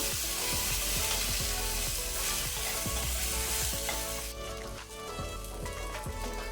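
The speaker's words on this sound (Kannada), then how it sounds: "ಒಳ್ಳೆ ರೀತಿ ಮಿಕ್ಸ್ ಮಾಡ್ತಾ ಮಾಡ್ತಾ ಫ್ರೈ ಮಾಡಬೇಕು. ಫ್ಲೇಮ್ ಹೈಯಲ್ಲಿ ಇಟ್ಕೊಂಡು ಮಾಡುವ ಫ್ರೈ." Okra sizzles loudly in oil in a pan on high flame, a dense, close frying hiss broken by repeated scraping stirs, and the sizzle drops a little near the end.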